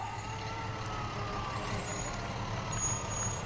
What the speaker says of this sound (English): these are the working trucks from the Sproat Lake Fire Department.